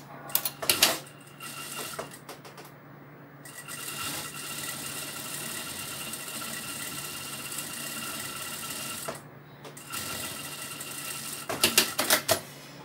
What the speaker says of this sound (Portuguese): E agora eu vou costurar do outro lado.